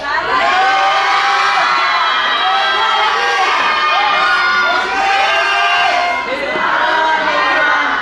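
A large crowd shouting and cheering together on cue, loud and close, a dense wall of excited voices and high-pitched yells that swells and holds for several seconds.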